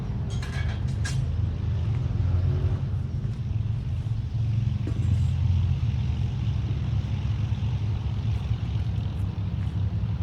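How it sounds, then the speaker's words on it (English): Motorbikes passing by outdoors on a rural site where a Lucas portable sawmill is being set up, a steady loud low engine rumble lasting throughout with no talk. "Just wait for the bikes to go past."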